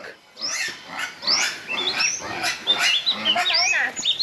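Pigs let loose to roam free-range, grunting and squealing close by in a busy, overlapping stream of high, rough calls for several seconds.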